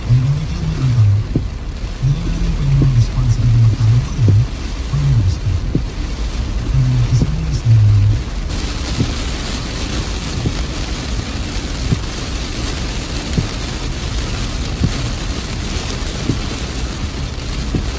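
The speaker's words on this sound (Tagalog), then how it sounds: "Tingnan nyo guys kung paano mag-progress yung ulan dito." Heavy rain falls steadily on a car driving toward Manila, a broad, continuous wash of drumming with road and engine rumble underneath, holding loud throughout without any talk.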